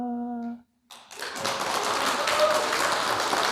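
A sung line with a steady tone cuts off, and after a brief silence a room full of listeners at a Buddhist monk's lecture on the Avatamsaka Sutra bursts into loud, sustained applause that builds and holds to the end.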